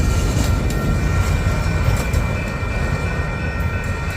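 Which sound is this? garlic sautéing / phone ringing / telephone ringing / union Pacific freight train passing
union Pacific freight train passing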